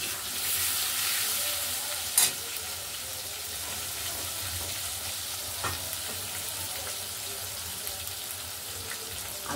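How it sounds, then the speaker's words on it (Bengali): Potatoes fry in oil in a wok with a close, continuous sizzle. Occasional sharper scrapes and knocks of stirring break through, and there is no talking. "আলুটা একটু লাল করে ভাজা করে নিই।"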